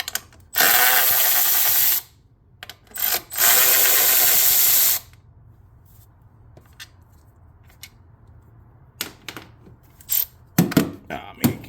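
Tool work on a Chevy Silverado, removing the plate that holds the knock sensor: two long, loud whirring bursts from a power tool loosening a 10mm bolt, then scattered short clicks and knocks nearby.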